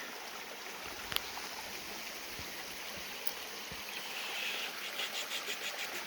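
A small mountain stream at a water source just below Hawk Mountain Shelter trickles with a faint, steady hiss, heard alone with a few soft knocks nearby.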